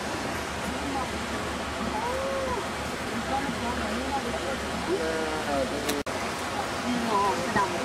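Water rushes far below the Capilano Suspension Bridge in a steady, broad roar, with faint voices and distant calls drifting over it and one sharp click partway through.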